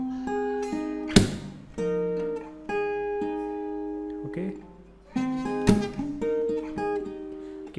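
Acoustic guitar playing the closing part of the first verse, with chords strummed and let ring, including two sharp, bright strums and a steady sustained tone between them, heard alone and up close.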